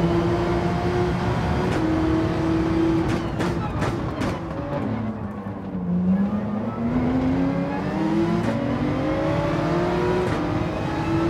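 A Porsche race car engine in Gran Turismo 7 drones loudly at high revs, with the pitch dropping on a downshift around the middle and then climbing again through acceleration, while a voice talks faintly beneath it.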